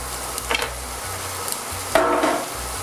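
Shallots sweat in a pan with a soft sizzle, broken by two brief scraping stirs, over low music.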